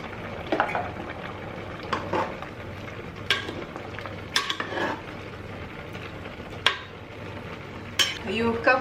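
Pieces of cut brinjal (eggplant) drop into a cooking vessel for a zero-oil chicken curry with potatoes, giving several separate clattering knocks and scrapes at irregular intervals, close and moderately loud.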